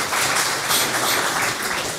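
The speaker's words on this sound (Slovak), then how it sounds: "to si zaslouží potlesk, pojďte" Applause from an audience in a Czech studio talk show, a steady dense wash of clapping that fills the whole moment at moderate loudness with no talk over it.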